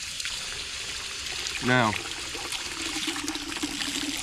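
Running water from a home sink rinses raw rabbit meat being worked by hand to strip off hair, a steady trickling flow under a brief burst of speech.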